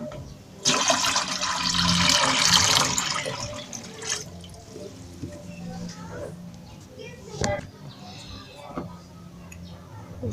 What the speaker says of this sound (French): Je verse l'eau dans la casserole.